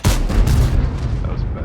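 A single heavy cannon shot from the Bisonte C45 tank in a video game, a loud close boom that rolls off into a fading rumble over about a second.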